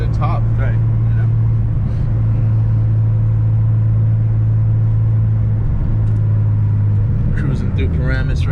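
A 1977 Porsche 911 RSR tribute with a G50 transmission cruises in fifth gear around town, its engine a loud, steady low drone with road rumble. Voices talk briefly near the start and end.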